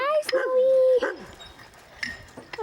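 A sled dog at a kennel in Chena gives a long drawn-out whine or howl, then shorter whimpering yips, close by with some background noise.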